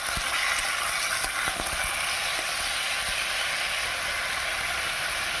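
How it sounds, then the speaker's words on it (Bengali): Potatoes and green beans fry with onions and green chillies in a pan on a new stove, a loud continuous bright sizzle and steam hiss with a few faint clinks of stirring, no voices. "এবার দিয়ে দিচ্ছি আলু আর বরবটি।"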